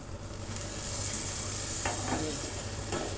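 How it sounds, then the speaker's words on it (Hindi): Milk splashes into a pan of vermicelli cooking in sugar syrup, setting off a steady, loud sizzle and frying hiss with soft stirring scrapes, no voices. "तो अब इसमें मैं दूध डालूंगी।"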